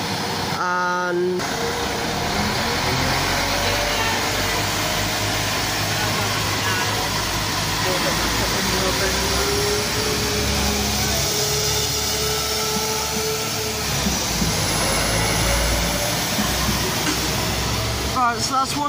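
Class 172 diesel multiple unit pulling out empty at Kidderminster station, a loud engine rumble and drone rising as it departs, with a person talking over it throughout.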